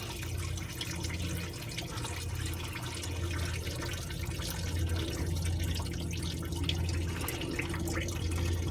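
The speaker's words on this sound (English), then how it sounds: "Dumping out of the water pump." Coolant from a Duramax diesel water pump pours out in a steady, continuous splashing stream, close by and without pause for several seconds.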